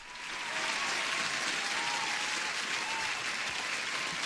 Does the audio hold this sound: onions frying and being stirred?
no